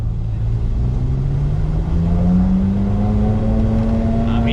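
A naturally aspirated V8 in the Ferrari Sergio, one of only six built, revs steadily upward as a rising engine tone fills the clip, loud and close, with no talking over it.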